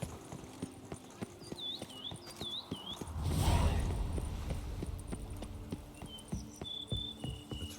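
Roach the horse in The Witcher 3 moving at pace, with quiet rhythmic hoofbeats under chirping crickets and birdsong, and a brief rushing swell midway.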